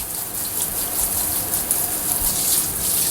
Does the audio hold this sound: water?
yes